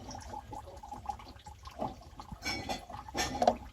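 Water drips and trickles out of a leaking diverter valve on a Vaillant Ecotec boiler, with soft irregular splashes and small metallic taps, close and fairly quiet, no voices.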